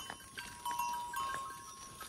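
Goats bleat in short, thin calls at a moderate distance, several voices overlapping against a faint outdoor background in eastern Nepal.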